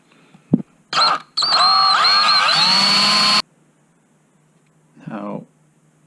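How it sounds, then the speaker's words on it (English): A handheld power drill bores a hole into a Mora companion knife handle: a short tap, a brief burst, then a sustained whining run that shifts pitch as the bit bites, stopping abruptly before a faint voice. "I'm just going to start a little hole right here so that the drill has something to bite into."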